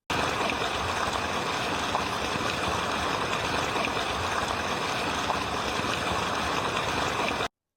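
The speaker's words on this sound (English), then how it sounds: "This teaser starts off with showing us a waterfall" A waterfall at Six Flags Great America produces a steady, dense roar of rushing water that stays even throughout before cutting off abruptly, with no talk.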